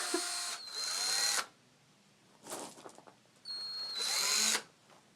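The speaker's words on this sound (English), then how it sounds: "We're just going to drill that in." A cordless power drill drives a screw into a wooden trebuchet build in three loud whirring bursts, the first and last long and steady, the middle one short and uneven, with quiet pauses between and no talk.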